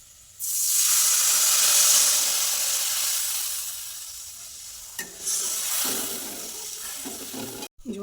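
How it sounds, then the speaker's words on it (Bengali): Fish curry broth with water spinach boils in a pan, a loud steady hissing bubble that gradually eases, followed by a few clinks and stirring scrapes near the end. "ঝোল ফুটছে"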